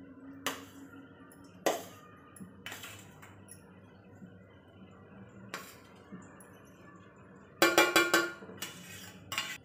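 Chopped dry fruits tipped and stirred into mashed dates for ladoo, a series of sharp clinks and scrapes of a spoon against a metal bowl, separated by quiet pauses and ending in a quick cluster of knocks.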